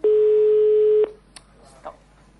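One loud, steady telephone ringing tone lasts about a second, then cuts off into quiet background with a few faint clicks.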